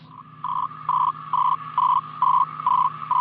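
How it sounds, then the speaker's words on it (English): Shortwave facsimile telegraphy transmission: a steady radio hum with a tone that pulses on and off in regular beeps, clean and repetitive. "This is the sound of facsimile telegraphy."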